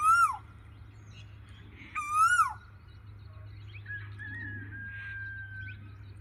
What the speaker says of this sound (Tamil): எனக்கு தெரிஞ்சு இதுதான் பெண் குயிலாக இருக்கணும். ஏன்னா எப்போ பார்த்தாலும் கத்திக்கிட்டே இருக்கும்.